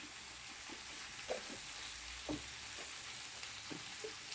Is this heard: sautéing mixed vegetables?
yes